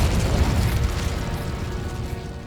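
A Confringo blasting spell explodes in Hogwarts Legacy with a loud, close boom whose rumble fades over a couple of seconds, with no talking.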